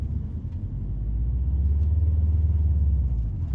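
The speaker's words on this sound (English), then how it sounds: "Let off the clutch slowly and give it gas." A Subaru STI with a manual gearbox pulls away as the clutch is let out, its engine giving a deep, steady rumble that swells after about a second and holds, heard from inside the car.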